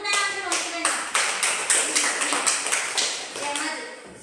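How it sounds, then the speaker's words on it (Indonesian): A classroom of children claps in unison for a pupil named Benda, roughly a dozen crisp, evenly spaced beats at close range, with a voice briefly audible near the start. "Tepuk tangan dulu untuk Benda"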